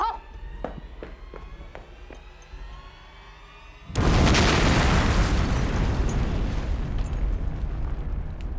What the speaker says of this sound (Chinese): 有炸弹，快跑！